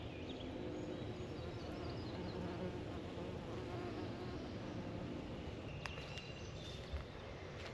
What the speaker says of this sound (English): Oh, little bee here. Little bumblebee.